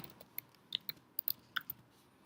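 Soft keystrokes on a computer keyboard, about a dozen irregular clicks spaced over two seconds, with a couple of sharper taps like the enter key, close and quiet with no talking.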